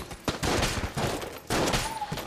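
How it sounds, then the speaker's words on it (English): A machine gun fires in the video game Enter The Gungeon in two dense, rattling bursts, loud and close, with a brief gap between them and a short tonal game chirp near the end. "Oh, he has a machine gun."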